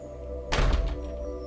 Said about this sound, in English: David ran home and locked the door behind him